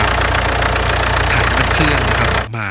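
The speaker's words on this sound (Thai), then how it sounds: "เดี๋ยวเราทำการติดเครื่องยนต์นะครับแล้วก็หลันเครื่องให้ร้อน" A common-rail diesel engine runs at a steady, loud idle with a rough, knocking clatter as it warms up, cutting out abruptly near the end.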